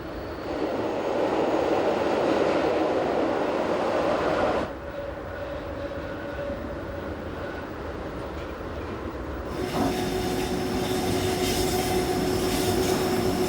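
The Glacier Express rolls along the Swiss railway between Disentis and St. Moritz with a steady, loud rumble of wheels on track. The tone shifts partway through, with a higher, ringing hum in the last few seconds.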